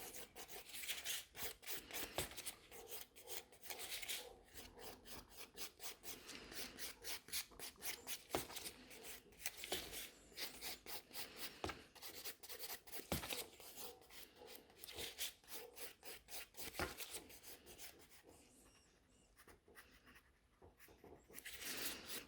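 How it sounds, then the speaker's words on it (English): Natural nails being filed with a half-moon shaped nail file around the cuticle area, a steady run of close, quiet rasping strokes alone without talk. "the files are great because they are in a half a moon shape, so it's easier to follow the cuticle area"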